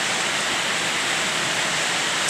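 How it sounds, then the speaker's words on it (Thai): Heavy rain from a passing storm pours down outside, a dense and steady hiss of falling water that stays loud and unbroken throughout, with no voices. "เป็นช่วงฝนตกนะครับฝนพายุเข้านะครับ"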